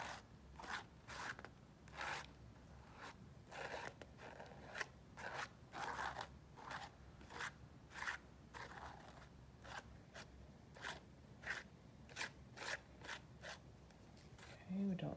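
Palette knife scraping texture paste across a small art journal page in a series of short, rhythmic strokes, close and soft, with a voice talking quietly throughout.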